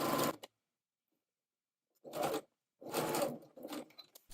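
A sewing machine stitching the outer edge seam of a tie in short runs: a brief burst, a pause, then two longer whirring runs and a final quick one, close and clear.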